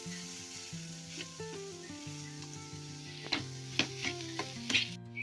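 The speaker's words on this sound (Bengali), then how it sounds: "এবার মাছটা দিয়ে দেবো মশলার মধ্যে এবার আমি কষিয়ে নেবো একটু ভালো করে" Rohu fish balls fry in spice paste with a faint sizzle, under a sustained tonal background, while a spoon taps and scrapes the pan in a short burst of clacks toward the end.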